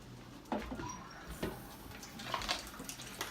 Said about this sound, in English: I need to fill this up to 1 cup.